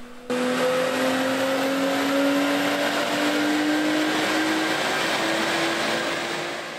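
Car engine revving hard during a dyno-style run with the air filter removed, a loud sustained drone whose pitch climbs steadily over several seconds before easing slightly at the end, with no voices.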